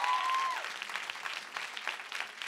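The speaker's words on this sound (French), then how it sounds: "Applaudissements pour le public" Dense applause from an audience at a private concert fills the clip, steady and lively throughout, with a brief tone sounding at the start.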